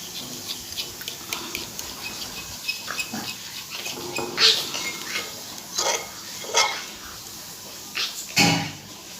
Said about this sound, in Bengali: ভালো করে নাড়তে হবে ভালো করে নাড়লে এই যে দেখো ভালো করে মিশে গেছে